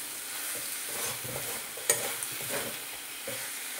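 A mixed vegetable chorchori frying uncovered in a kadai while being stirred, with a steady close sizzle and scraping stir strokes, plus one sharp metallic clink near the middle.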